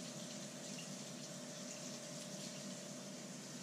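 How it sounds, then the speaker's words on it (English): Tap water running steadily into a kitchen sink as a prime rib is rinsed beneath it, a continuous close hiss and splash with no talking. "I've got it actually underneath my sink right now, and I'm rinsing it off."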